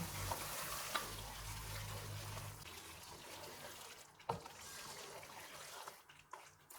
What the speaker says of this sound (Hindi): 3 साबुत सुरख मिर्चें, आधा कप फेंटा हुआ दही डालेंगे। इनको 2 मिनट तक भूनेंगे।